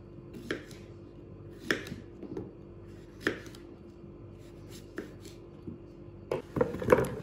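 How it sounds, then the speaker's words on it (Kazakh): A knife chops cucumbers on a cutting board for quick salted pickles, with several separate crisp cuts spaced irregularly and close by, then a quicker cluster of chops at the end, against quiet kitchen background. "Алдымен қиярымызды видеода көрсетілгендей етіп турап аламыз."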